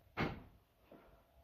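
A single quiet clunk of a door opening, followed by a softer knock about a second later, in an otherwise quiet room.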